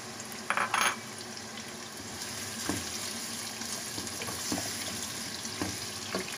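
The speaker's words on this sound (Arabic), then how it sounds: "هنزل بقى بالبصل" Onions drop into hot oil for lentil soup, setting off a steady close sizzle after a brief clatter as they land, with faint scrapes and taps through the frying.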